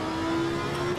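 A GT3 race car engine in the racing game Assetto Corsa Competizione holds a steady, loud, buzzing drone with a sustained tone, as the throttle is picked up through a turn.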